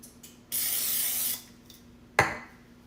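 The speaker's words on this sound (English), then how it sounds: "well, I can just spray it with Pam, can't I?" Cooking spray (Pam) sprayed into a flan case for greasing a pumpkin pie crust: one steady close hiss lasting under a second, with a faint shorter spurt before it and a sharp clatter afterward.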